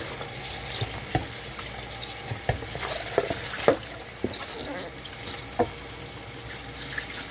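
Dishes are washed at a sink with running water, with scattered clinks and knocks of plates and utensils at irregular intervals over a continuous wet wash.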